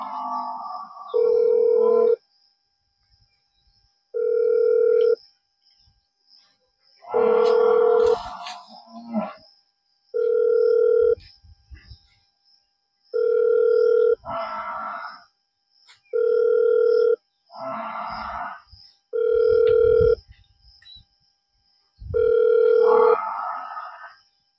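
A phone on speakerphone rings out while calling a junior electrical engineer about power cuts in Mathwar block. The ringback tone repeats about eight times in steady, evenly spaced bursts with short silences between, and faint voices sit underneath.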